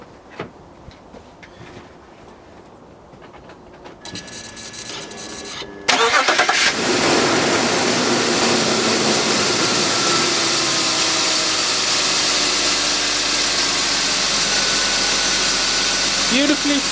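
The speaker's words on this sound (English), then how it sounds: "I think we should see how it sounds on startup to see if it's still rattling" BMW E39 engine cranking and firing up after belt, tensioner and pulley replacement, then settling into a steady, smooth, loud idle heard up close with no talk over it.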